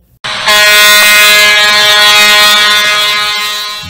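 A cargo ship's horn in port gives one long, loud, steady blast with a rich stack of harmonics, sounding close and holding for several seconds before easing slightly toward the end.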